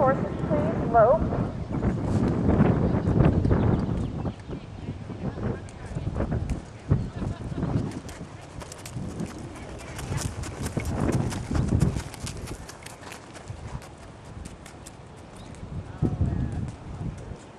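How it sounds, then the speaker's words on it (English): Horses loping around the arena at a western pleasure show, soft rhythmic hoofbeats in the dirt with wind buffeting the microphone and a voice talking over parts of it. "Lope your horses, please. Lope."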